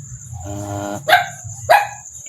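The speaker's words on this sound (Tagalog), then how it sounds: "Yun, tumatahol na po yung aso." A dog barks twice, sharp close woofs about half a second apart, over a low background hum and a faint steady high tone.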